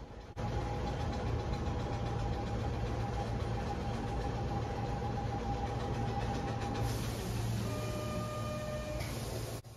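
A steady rumbling hum inside a moving 1700 series electric commuter train bound for Myokenguchi, with a faint high whine; near the end a brief electronic chime-like tone sounds.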